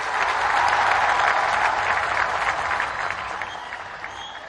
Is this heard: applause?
yes